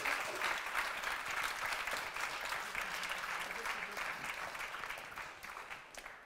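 An audience claps steadily at a live concert celebrating an album release at La NEF in Saint-Dié, a dense wash of applause that tapers off gradually toward the end.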